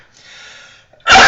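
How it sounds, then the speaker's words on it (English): A quiet breathy inhale builds for a moment, then a single loud, sharp sneeze bursts out close by. "And I feel a sneeze."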